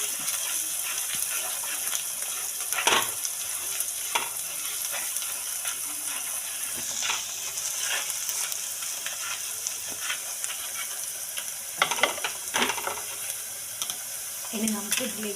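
Turmeric and spices are stirred in a hot pan for a prawn roast, with a constant sizzle and hiss and irregular scraping clacks of the spoon against the pan.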